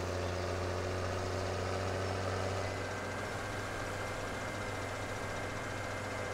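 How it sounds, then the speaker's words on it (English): A tractor engine in the Farming Simulator 17 video game drones steadily at a low-pitched, even hum while driving, constant and fairly quiet, with a faint high whine above and no speech. "We'll just borrow the tractor. We can drive around that way."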